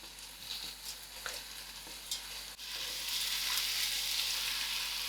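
A vegetable and soya chunk biryani mixture is stirred in a pot, giving a soft scraping at first, then a steady, close sizzle that swells and holds. No one speaks.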